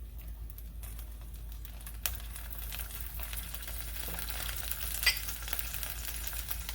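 A corn tortilla fries in oil over gentle heat, giving a steady soft sizzle with occasional light clicks and crackles close by.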